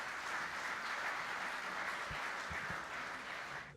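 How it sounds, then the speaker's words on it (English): An evening awards crowd at a Bowls Australia volunteer ceremony applauds a guest called to the stage, a steady, even wash of many hands clapping, fairly distant, fading slightly at the end. "Give him a round of applause."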